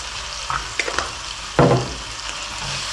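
Zucchini filling with salt and pepper sizzles in a pan as it is stirred, a steady fry punctuated by a few sharp scrapes and one louder clattering stir midway.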